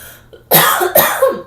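A single close, sharp cough followed by a second one, both loud and standing alone with no talking over them.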